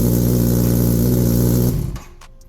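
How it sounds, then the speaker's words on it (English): Kawasaki Ninja ZX10R with an M4 slip-on exhaust, baffle installed, on a cold start: a loud, steady, deep engine drone that holds for nearly two seconds and then drops away as it shuts off, with faint clicks after. "Cold start on the M4 slip-on exhaust with the baffle in."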